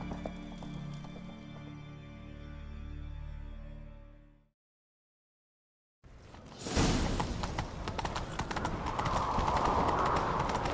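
In the video game The Witcher 3, a sustained musical tone fades to silence, then loud galloping horse hoofbeats pound in a rapid rhythm, with rushing wind and clatter.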